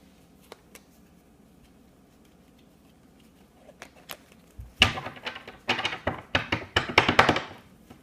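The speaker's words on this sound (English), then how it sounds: "Now I'm going to do the slop shuffle." Playing cards being slop shuffled: after a quiet stretch with a few small taps, a quick run of crisp riffling bursts follows close by.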